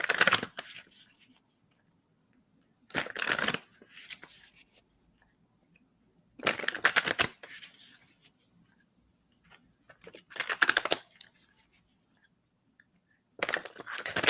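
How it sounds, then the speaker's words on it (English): Playing cards shuffled right next to the microphone, in four or five crisp riffling bursts a few seconds apart, separated by near silence. "the sound of the cards shuffling by the microphone"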